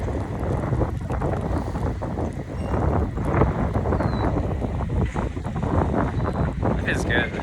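Wind gusts steadily across the microphone outdoors, a continuous rough rumble with buffeting throughout and no clear pauses.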